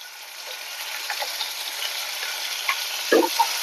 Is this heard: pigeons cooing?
no